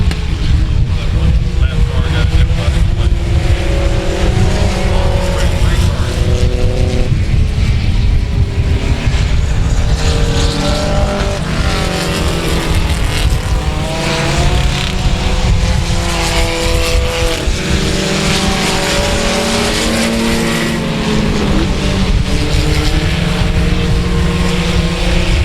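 Several race cars roar around the oval at South Texas Speedway, engines loud and sustained with rising and falling pitch as they pass in close succession, forming a dense continuous racket.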